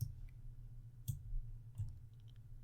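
Computer mouse clicking at a desk, three or four faint sharp clicks spaced about a second apart over a low hum.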